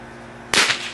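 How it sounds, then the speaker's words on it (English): A single sharp firework bang goes off outdoors, loud and sudden after a quiet moment, with a short fading tail. "Fireworks are so entertaining."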